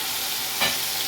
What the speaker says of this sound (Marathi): अद्रक लसूणची पेस्ट घालते